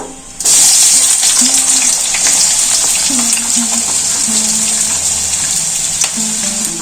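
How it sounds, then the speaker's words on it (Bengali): A sudden loud sizzle of sliced onions hitting hot spiced oil bursts in after a brief quiet moment, then crackles and hisses steadily nearby, with a faint voice in the background. "এর মধ্যে আমি কেটে রাখা পেঁয়াজগুলো দিয়ে দেবো"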